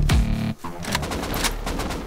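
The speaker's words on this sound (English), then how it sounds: "Is that an AK? Yeah, that's an AK." An AK rifle fires in the Rust video game, a loud close burst of rapid automatic shots that breaks off abruptly and gives way to a long ringing echo.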